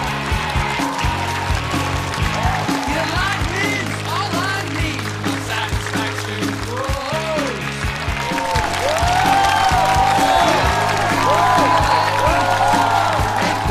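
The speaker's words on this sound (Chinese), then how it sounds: "掌声欢迎一下" Studio audience at a Chinese roast comedy show applauds steadily for about fourteen seconds, the clapping swelling slightly toward the end over background music and scattered voices.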